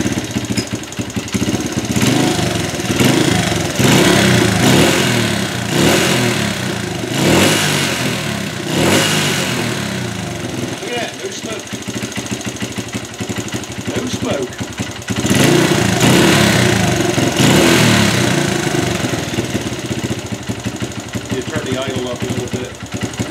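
A 1995 Honda XR80 small motorcycle engine, rebuilt after a bent valve, runs close by, idling with a busy putter and occasionally revving up, with a voice speaking over it.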